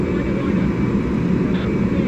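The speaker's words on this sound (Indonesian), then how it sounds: "Presiden Recep Tayyip Erdogan sudah akan memasuki pesawat kenegaraan untuk melanjutkan kunjungan kenegaraannya di Asia." A Turkish presidential state aircraft sits at an airport departure, giving off a continuous, loud engine roar that holds steady throughout.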